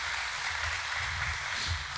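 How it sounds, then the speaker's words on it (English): An audience at a regional chamber of commerce monthly meeting claps in a steady, fairly faint wash of applause with no voices over it. "let's give Gary a round of applause for that nice little yes"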